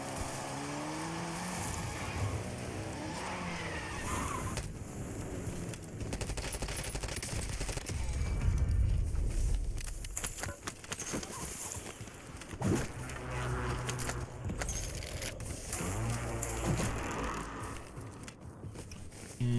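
Vehicle engine driving in a video game, steady loud roar with game effects and bursts of gunfire mixed over it throughout.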